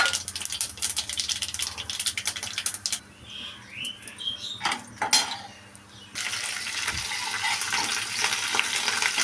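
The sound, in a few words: mustard seeds and urad dal frying in hot oil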